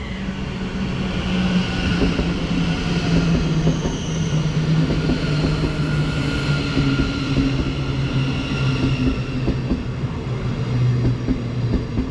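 A Thameslink Class 700 unit, number 700-136 on the Brighton to Cambridge service, pulls into a station platform with a loud, sustained rumble and rising whine, wheel and brake tones sliding steadily as it slows alongside.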